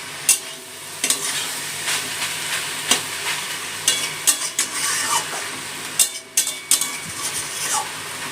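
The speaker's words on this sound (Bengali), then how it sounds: "নিয়ে নিয়ে শাকটা ভাজা ভাজা করে নেবো" Water spinach (kalmi shak) frying in a pan on a gas stove, stirred often: a loud, close, continuous sizzle broken by repeated sharp scrapes and knocks of the utensil against the pan.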